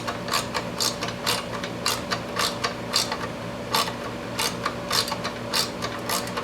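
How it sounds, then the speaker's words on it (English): A tiny ratchet socket set clicks in quick, uneven bursts while tightening a sleeved bolt on a Craftsman belt sander under repair, the sharp ratcheting close and clear over a faint steady hum. "I figured this tiny little socket set would come in handy again"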